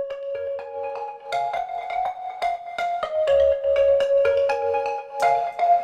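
Two synth sounds from Logic's Sculpture synthesizer play a bright, bell-like plucked melody of short repeated notes over a soft low pulse, clean and moderately loud with no voices.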